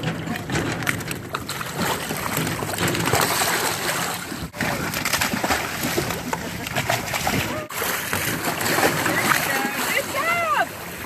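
Rescued sea lions splash into the ocean off La Jolla as they are released, a busy mix of water sloshing and slapping with a boat nearby and people talking over it.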